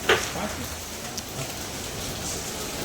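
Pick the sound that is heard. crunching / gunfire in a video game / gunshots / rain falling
rain falling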